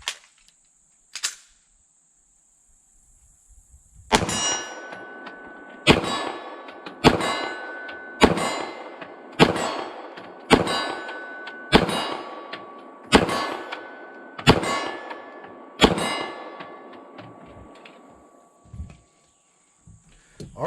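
A Sig P226 Legion 9mm pistol fires a string of about a dozen evenly spaced shots, each followed by the ringing clang of a steel plate hit at 25 yards, loud and sharp after a quiet start.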